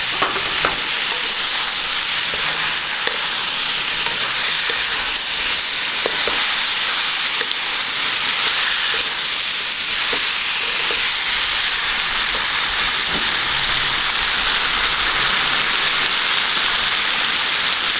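Eggplant sizzling and frying loudly and continuously in a pan for adobong talong with tofu, a dense crackling hiss with occasional stirring clatter throughout.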